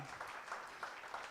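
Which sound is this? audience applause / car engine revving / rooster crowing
audience applause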